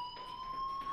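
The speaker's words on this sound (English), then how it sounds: "do you hear that fire alarm?" A fire alarm in the Life Is Strange video game rings as a steady electronic tone with faint rhythmic pulses, continuous and moderately quiet.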